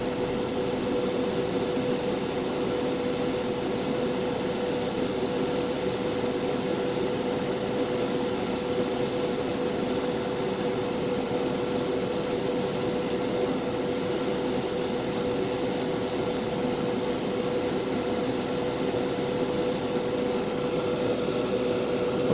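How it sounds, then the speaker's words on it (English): Steady airbrush hiss spraying paint onto parts of an MG Gundam HeavyArms Custom model kit, a continuous even spray with a few brief pauses, fairly close and with no talking. "I'm going to take my time with this, airbrushing all the parts."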